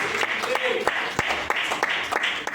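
A church congregation claps along in a rhythmic, fairly quick beat, sharp repeated hand claps over a worship leader speaking.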